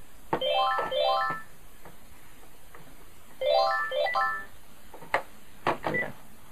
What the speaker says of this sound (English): if that phone's over there, I'll press that. And it starts ringing the phone,